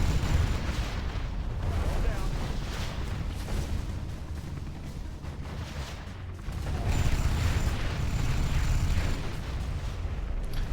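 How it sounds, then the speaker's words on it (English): A mobile Scud Launcher fires in Rise of the Reds, heavy booming blasts and a continuous rumbling roar of explosions over about ten seconds, loud and sustained, swelling again near the end. "Add some salt and pepper, aka veterancy, and you have the mobile Scud Launcher."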